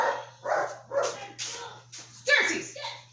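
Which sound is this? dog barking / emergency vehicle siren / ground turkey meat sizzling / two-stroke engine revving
dog barking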